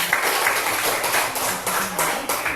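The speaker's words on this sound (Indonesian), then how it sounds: "Sekali lagi tepuk tangan untuk kelompok geometri." A classroom audience gives a short burst of steady applause for a student geometry group, the claps dense and close with no voices on top.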